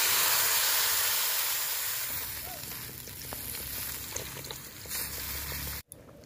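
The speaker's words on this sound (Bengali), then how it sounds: "এখন দিয়ে দেব জল।" Water poured onto frying potatoes and cauliflower bursts into a loud, broad hiss that slowly settles into a quieter bubbling sizzle before an abrupt cut near the end.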